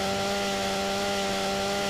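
A chainsaw from GTA San Andreas drones at a constant, steady pitch for the whole stretch, loud and close with no talking over it.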